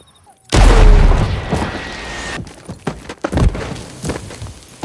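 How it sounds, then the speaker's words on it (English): A loud single gunshot boom rings out in a Django Unchained film scene as a fleeing man is fired upon, followed by a lingering rumble, scattered thuds and faint movement. "Schultz encourages Django to shoot Don Johnson's Big Daddy as Big Daddy is escaping from a failed murder attempt"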